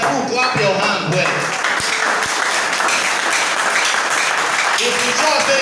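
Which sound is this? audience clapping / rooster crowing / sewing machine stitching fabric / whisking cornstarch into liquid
audience clapping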